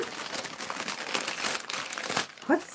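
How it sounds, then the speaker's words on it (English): Plastic wrapping, wrapped twice, crinkles and crackles as it is torn open, a busy close-up rustle that keeps going throughout, with a short voice breaking in near the end. "Oh, sorry about the crinkle."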